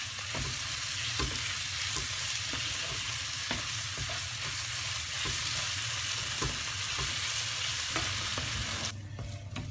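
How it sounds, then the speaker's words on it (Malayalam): Tomatoes sautéing in a pan for egg puff filling, a steady close sizzle and fry with occasional stirring clicks throughout, no talking. "ഇപ്പോൾ എല്ലാം തക്കാളിയെല്ലാം ഇട്ട് നന്നായിട്ട് വഴന്നിട്ടുണ്ട്."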